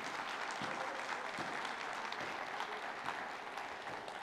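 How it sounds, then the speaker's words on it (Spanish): A church congregation applauds, a dense, steady wash of many hands clapping at close range, sustained throughout and fading slightly at the end. "Dale un aplauso al Señor y hónrelo."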